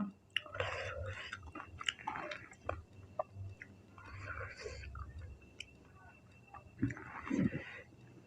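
Crunchy Thai rice-noodle papaya salad with crispy pork is chewed close to the mic: moist crunches and bites come in bursts between soft, whispery speech.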